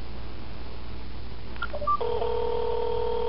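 A phone places a call through a WiEx zBoost YX510 cellular signal booster: a few short dialing tones beep in quick succession over faint background hiss, followed by a steady ringback tone.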